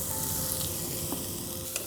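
Chopped onion sizzles steadily in hot oil in a pan as tomato sauce is started, giving a soft, continuous frying hiss with a faint clink near the end.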